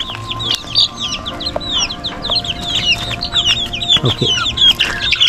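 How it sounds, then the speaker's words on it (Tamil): A Kadaknath-Brahma crossbreed chick squawks and peeps in rapid, loud bursts while being caught, with other chickens clucking around it on a poultry farm and someone briefly speaking. "இங்கே வந்து ஒரு குஞ்சு இருக்குது, அதை நான் பிடிச்சி காட்டுறேன் உங்களுக்கு"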